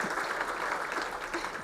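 Audience at a chamber of commerce annual meeting applauding steadily, a dense patter of clapping at moderate distance with faint cheering, no talk over it.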